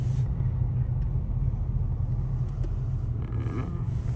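Steady low rumble of heavy Saturday road traffic on Highway 401 in Canada, heard from inside a vehicle as a constant droning engine and tyre noise, with faint voices at moments.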